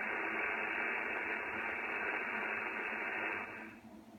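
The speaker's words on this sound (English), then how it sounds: "just got the 7300 cranked up on the CB band, thought I'd have a listen" ICOM IC-7300 transceiver tuned to the CB band through a non-resonant magnetic loop antenna, giving steady loud static hiss that cuts off near the end, with no voices.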